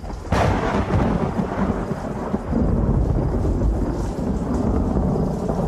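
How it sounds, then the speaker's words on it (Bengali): A loud, sudden thunder clap breaks and then rolls into a heavy, continuous rumble with steady rain hissing underneath, close and full, with no voices. "আচমকা বাজ পড়ার শব্দে আমাদের কানে যেন তালা লেগে গেল"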